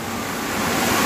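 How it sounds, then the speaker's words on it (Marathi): Heavy surf surges against the Konkan coast during torrential monsoon rain, a dense, roaring wash of water that swells slightly louder over about a second, with no talk. "इकडे लाटा बघा कसली इली ते झोत"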